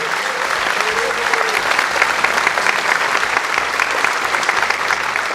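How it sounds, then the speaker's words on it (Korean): Sustained audience applause at the 21st South Korean presidential inauguration oath ceremony for the president, a dense, steady wash of clapping from a large crowd that continues evenly throughout with no break. "다시 한번 대통령님께 큰 박수 보내주시기 바랍니다."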